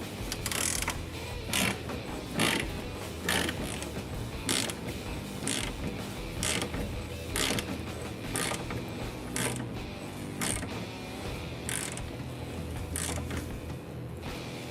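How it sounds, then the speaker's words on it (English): A press tool drives a new ball joint into the front axle of a Jeep WJ, giving a steady run of ratcheting clicks and creaking mechanical strain at a close, even pace with no talk. "And we can go ahead and press our ball joint in."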